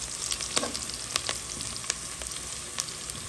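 Onions frying slowly in a pan, a gentle steady sizzle with scattered small pops and crackles, close and fairly quiet, with no talk.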